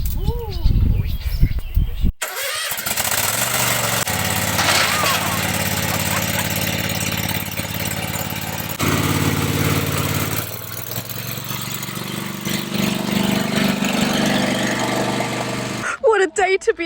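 A ride-on lawn mower's engine starts up and runs with a loud, steady, close droning rumble that lasts most of the time and cuts off near the end, with voices talking at the start.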